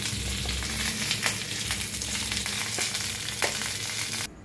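Food sizzles steadily in a pan of shallow oil over a low gas flame, a continuous close crackle with occasional sharper pops, no voices.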